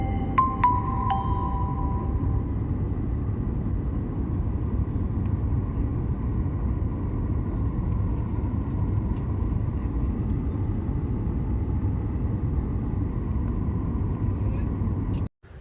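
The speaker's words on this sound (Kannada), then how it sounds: "ಈಗ ನಮ್ಮ ವಿಮಾನ ಬೆಂಗಳೂರಿನ ಅಂತಾರಾಷ್ಟ್ರೀಯ ಏರ್ಪೋರ್ಟಲ್ಲಿ ಲ್ಯಾಂಡ್ ಆಗ್ತಾ ಇದೆ." Steady low rumble of an airliner cabin during landing at Bangalore's international airport, a continuous loud drone with a brief tone near the start and a sharp cutoff at the end.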